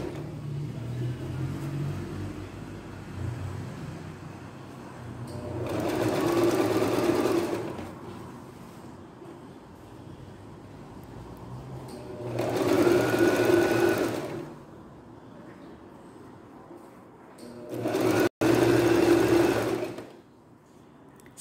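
A sewing machine stitches a narrow double-folded hem on a blouse in three separate runs of a few seconds each. The steady whirring is close and clear, with quiet pauses between the runs and no talking.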